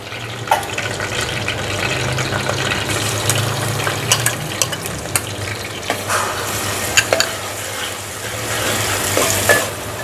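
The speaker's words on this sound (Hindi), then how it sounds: "एक आध मिनट इसको पकाने के बाद अब हम इसमें प्याज डाल देंगे।" Chopped onions go into hot oil with whole spices in a pan for dhaba-style chana dal, giving a loud, continuous sizzle and crackle with occasional stirring scrapes, close up and without speech.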